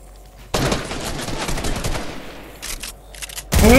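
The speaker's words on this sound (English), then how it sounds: "I shoot you down." A loud, close burst of rapid Fortnite gunfire rattles for about two seconds, then a few scattered shots crack out near the end.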